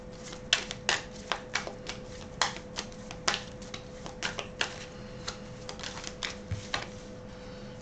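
Tarot cards being drawn and laid out on a table, a steady series of crisp, close taps and flicks as cards are handled and set down, with a faint constant hum beneath and no talking.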